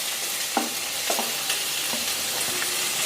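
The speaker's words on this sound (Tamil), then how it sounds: "இப்போ தக்காளி போடுறோம்." Chopped tomatoes frying in a pan with curry leaves, garlic paste and ginger paste, giving a steady close sizzle with a few soft stirring knocks and no talking.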